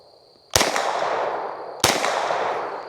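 Two sharp gunshots from a Stribog SP9A1 pistol-caliber carbine fired at outdoor steel target plates 40 to 50 yards off, each crack followed by a long ringing decay from the struck steel, spaced about a second apart.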